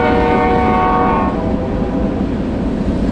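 A train rumbles loudly past close by, its horn blaring at first before fading into the steady roar and clatter of the cars.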